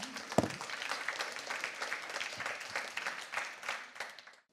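Audience at a magazine's live stage event at the Gaîté Lyrique in Paris applauding a speaker, moderate scattered clapping from a mid-sized crowd heard at a slight distance, thinning and fading out at the end.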